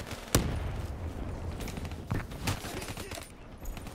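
Gunfire in the Call of Duty: Black Ops III Nuketown map, a sharp close shot followed by scattered further bursts of firing over a constant game-noise bed.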